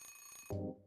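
In the video game Silent Hill, an alarm clock's ringing tone sounds and then cuts off, leaving a lower, louder electronic buzz in a short burst.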